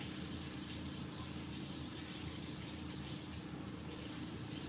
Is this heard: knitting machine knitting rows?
no